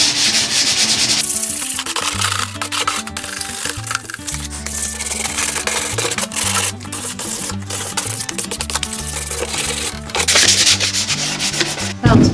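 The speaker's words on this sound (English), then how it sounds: "I'm actually only going to sand the edges and corners and gently rough up the surface" Sandpaper rubs over the edges and corners of an IKEA cube shelf, giving a steady close scratchy back-and-forth with short pauses and no voices.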